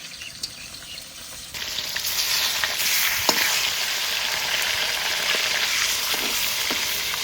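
Katla fish pieces, just flipped in a wok of mustard oil, sizzle and crackle steadily; the frying jumps louder after the turn and holds a dense, even hiss with scattered pops.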